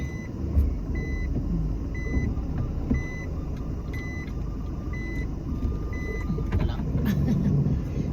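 Large vehicle reversing slowly through grass, its backup alarm beeping in a steady, evenly spaced rhythm over a continuous low engine rumble, with a brief voice near the end.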